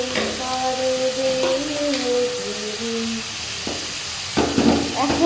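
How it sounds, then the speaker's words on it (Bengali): Prawns for a lemon prawn dish fry in a pan, a moderate steady sizzle running beneath a melodic singing voice, with a few louder stirring clatters near the end. "এই যে চিংড়ি মাছটা ভাজা ভাজা করে নিলাম"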